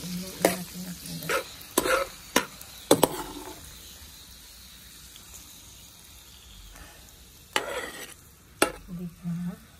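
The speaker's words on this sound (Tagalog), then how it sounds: "Halu-aluin natin ang kindat." Kindat being stirred in a pan, several sharp scrapes and clacks of a utensil against the metal in irregular bursts over a faint sizzle, with quiet gaps between strokes.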